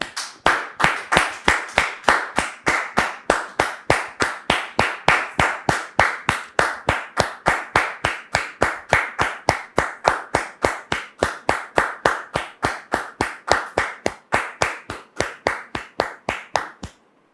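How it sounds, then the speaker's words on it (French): A studio audience claps in a steady, evenly spaced rhythm for a guest being welcomed on a French-language talk show, the sharp beats close and loud throughout, stopping abruptly at the end. "Sous vos applaudissements, s'il vous plaît."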